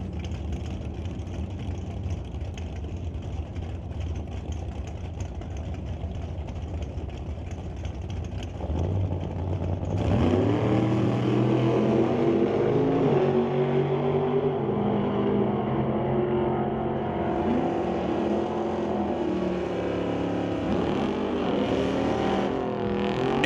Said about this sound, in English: Greg Bodle brings up the 69 first gen Camaro to race Jan Christensen to the El Gringo Nova.